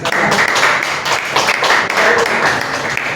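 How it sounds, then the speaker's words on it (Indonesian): Applause for a student group in a classroom, a burst of steady clapping from many hands filling the whole short stretch, loud and close, with some voices mixed in. "tepuk tangan sekali lagi untuk kelompok ini"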